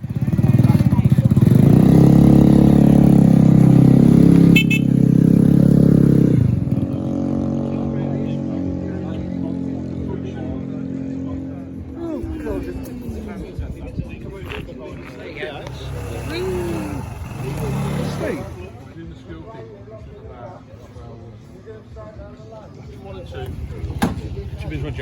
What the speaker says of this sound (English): hopefully with the sound of some wonderful scooters